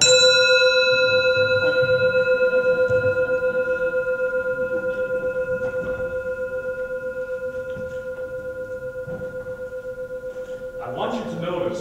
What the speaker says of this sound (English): I want you to notice what happened when I rang that bell